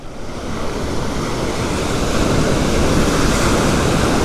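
Ocean surf crashes and churns in a beach gutter with white water, a loud, continuous roar of breaking waves mixed with wind buffeting close to the microphone.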